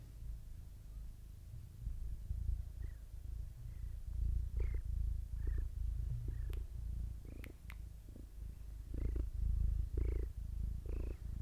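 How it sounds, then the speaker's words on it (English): Minka, a pet cat, purrs steadily and close up, a continuous low rumbling with soft rhythmic pulses running through the whole stretch, without any talking. "little Minka behind me, my cat"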